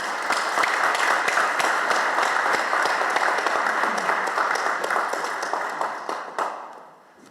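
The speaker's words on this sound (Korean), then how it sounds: "유경선 총동문회장님 큰 박수로 모셔서 축사 청해 듣겠습니다." Dense, sustained applause from a large audience at Yonsei University's 137th anniversary ceremony in 2022, steady and loud for most of the stretch before thinning out and fading near the end.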